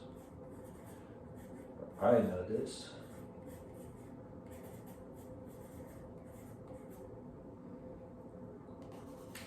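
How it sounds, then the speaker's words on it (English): A Blackwing 602 HB pencil makes a brief scratchy stroke on paper, close but quiet, while a person talks over a soft background hiss. "this is the Blackwing 602, which maybe I'm remembering wrong, but I believe they call this an HB pencil"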